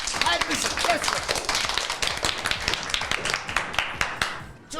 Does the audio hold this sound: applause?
yes